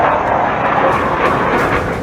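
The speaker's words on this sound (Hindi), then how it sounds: "तेजस लड़ाकू विमान।" An Indian-built Tejas fighter jet roars loudly and steadily, a dense broadband jet-engine rush that holds constant and close with no pauses or voices.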